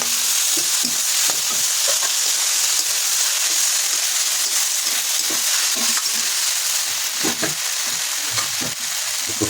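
A cumin, ginger and green chilli paste is stirred in a hot pan, giving a steady close sizzle with scattered scraping taps of a spoon throughout.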